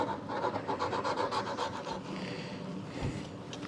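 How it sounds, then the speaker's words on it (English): A chisel scrapes old adhesive residue off a Shopsmith dust collector in a run of quick rhythmic rasping strokes, then a few slower scrapes, faint and close with no talk. "I'm just going to use a chisel here and get off any of the remaining adhesive or residue from that last seal"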